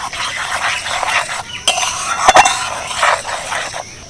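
Turmeric and Kashmiri chili powder are stirred in warm oil for a garlic pickle, with a spoon scraping the pan over a low sizzle and a couple of sharp metallic clinks.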